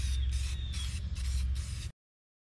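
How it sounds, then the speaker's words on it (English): Black paint hisses from a spray can in several steady bursts with brief gaps between them, close and fairly loud with no talking, then cuts off into silence. "So I just got me some good old black paint here. And give it a nice coating."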